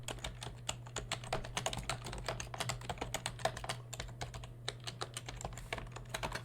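Fingers type quickly on a computer keyboard while logging into an online system, producing a steady, dense patter of light key clicks over a low, constant hum.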